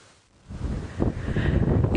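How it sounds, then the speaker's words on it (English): Gusty wind buffets the microphone on an open safari drive, starting low and quiet, then swelling into a loud, sustained rumbling roar for the rest of the stretch with no voices. "When that wind gusts, there's just dust everywhere."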